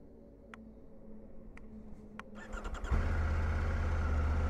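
A Triumph Tiger 900 Rally Pro motorcycle engine starts with a few faint clicks and a brief cranking whir, then catches at about three seconds and settles into a loud, steady, close idle rumble.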